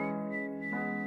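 Melodic whistling with a steady sustained pitch that shifts partway through, in a song, set over layered warm tones with a tape-style texture.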